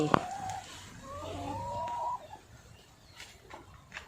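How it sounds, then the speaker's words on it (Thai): Laying hens kept for eggs on a rural Thai home farm, clucking and calling in a few short bursts and a longer drawn-out cackle, fairly close, over quiet outdoor background. "ไก่ไข่จ้า บ้านน้องสาวนะคะ ก็เลี้ยงไก่ไข่ไว้นะคะ"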